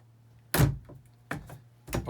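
A pantry door in a 2017 Thor Chateau RV is worked open and shut, producing three close, dull wooden thumps spaced about a second apart over a faint hum.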